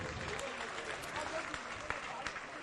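Audience at a Jain religious gathering at Chandragiri Tirth claps in approval, a steady dense patter of many hands, fairly faint and distant, with voices murmuring through it.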